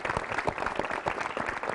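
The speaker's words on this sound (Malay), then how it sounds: "Sekali lagi tepukan kepada diri anda" A university audience, students among them, applauds at a civil society leadership event, a short burst of quieter, uneven clapping with distinct individual hand claps.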